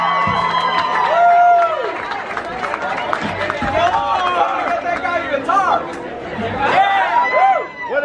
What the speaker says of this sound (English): Big round of applause for my brother Victor and my brother from another mother, David.